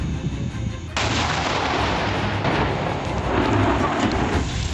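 A sudden heavy factory explosion bursts in after a moment of quieter noise, then rolls on as a sustained, crackling roar of the fire that followed.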